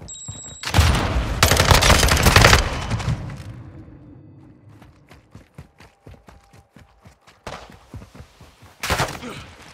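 Gunfire in Call of Duty: Modern Warfare II, a team deathmatch: loud bursts of automatic fire at the start and again near the end, with a trailing string of quieter rapid shots between them.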